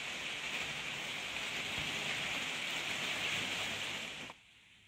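Steady, loud rain pours down outdoors as a continuous broadband hiss for about four seconds, then cuts off sharply near the end, leaving quiet.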